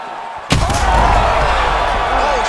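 A heavy punch lands in a UFC 5 fight simulation on PS5, a single sudden loud thud followed by a sustained roar of arena crowd noise.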